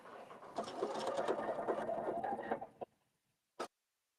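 A sewing machine runs a wide zigzag stitch along a hem for about two and a half seconds, a close steady rattling whir that stops, followed by a single brief click.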